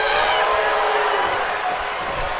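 A WWE 2K22 wrestling arena crowd roars steadily in a dense, continuous wall of cheering and whooping, loud and unbroken throughout, with scattered voices speaking beneath the noise.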